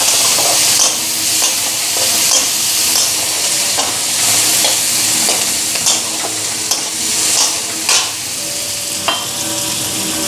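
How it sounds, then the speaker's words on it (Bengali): Onions frying lightly in a wok of hot oil with dried red chillies, a steady close sizzle with scraping stirs and occasional clinks of a spatula against the metal, no voices. "আর পেঁয়াজটা বেশি লাল করে ভাজব না, একটু কাঁচা কাঁচা।"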